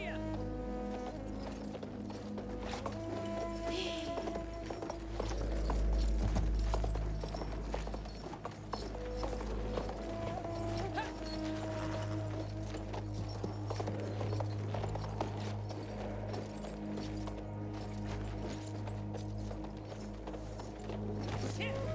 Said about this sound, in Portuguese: Vou pegar um cavalinho aqui.